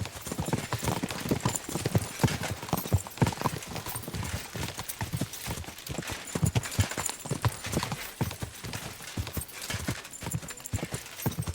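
Horses galloping hard in a race in Kingdom Come Deliverance 2, a dense, fast drumming of hooves that stays loud and close throughout, with faint voices underneath.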